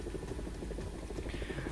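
G-Lynx helicopter in War Thunder, a loud, dense rotor and engine thrum with a steady low pulsing beat that runs continuously throughout.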